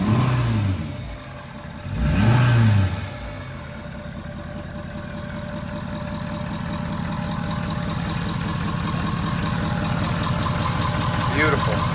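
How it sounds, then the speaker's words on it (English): Car engine with a freshly fitted SPE Motorsport full intercooler piping kit, revving briefly then holding a steady, loud mid-to-low drone close by, with a short throttle blip early on. "You want to give her a little throttle for me?"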